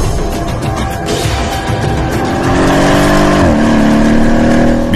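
An AMG 5.5-litre V8 biturbo M157 engine runs on a test bench, a loud, steady roar that swells and climbs in pitch as the revs rise, then holds high before shifting slightly.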